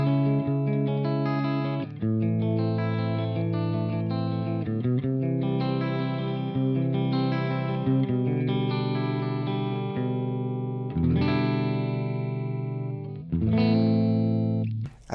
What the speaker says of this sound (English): We're gonna start it out with the clean one